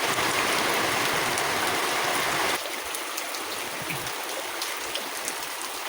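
Floodwater from a typhoon rushes nearby as a dense, continuous roar like heavy rain and a fast stream. It grows a little quieter partway through and goes on without speech.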